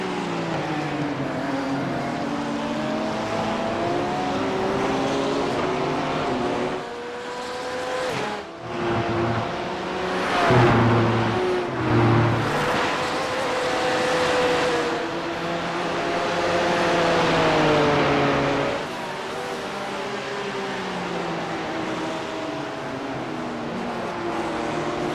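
Race car engines drone and shift pitch continuously in a Nurburgring 24 Hour racing video game, with loud, overlapping whines rising and falling as cars accelerate and brake.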